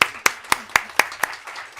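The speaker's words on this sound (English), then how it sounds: "So everybody, let's give a clap." Brief clapping from a seminar audience at a seaweed industry forum, about seven sharp, evenly spaced claps that fade toward the end, with no voices.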